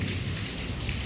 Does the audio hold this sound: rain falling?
yes